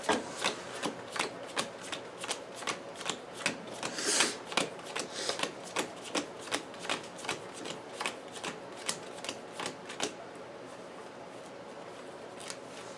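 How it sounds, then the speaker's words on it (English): Playing cards from a Marvel Champions card game are shuffled into a deck, producing a steady series of crisp riffling snaps, close and fairly quiet, repeating evenly for several seconds. "So I'm gonna shuffle Ticket to the Multiverse into my deck."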